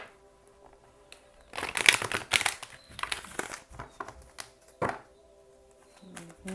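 Tarot cards rustle and flick in several quick shuffling bursts, crisp and close, with quieter handling sounds between them.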